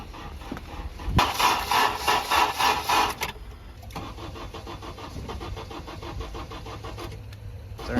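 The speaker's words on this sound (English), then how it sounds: "So the car wouldn't start even with the battery in it." A Honda Element's starter cranks the engine in a fast rhythmic churn for about two seconds without catching, followed by a steady mechanical whir close up, with no voices.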